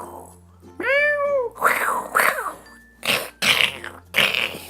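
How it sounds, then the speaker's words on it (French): A cat gives one clear, rising-and-falling meow near the start, followed by several shorter raspy, hoarse calls, close and fairly loud with quiet pauses between them. "Moi j'ai un chat"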